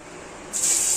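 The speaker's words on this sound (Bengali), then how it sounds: "এখন এই কড়াইতে যে তেলটা আছে এর মধ্যে একটু কালো জিরা ফোড়ন দিয়ে দেবো।" Nigella seeds hit hot oil in a wok, a sudden bright sizzling hiss that bursts in halfway through and holds steady and loud.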